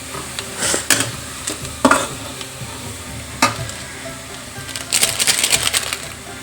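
Spices stir-frying over low heat for an aloo paratha potato filling, a light sizzle under sharp scrapes and metallic clinks of a spoon against the pan, with a louder cluster of scraping near the end.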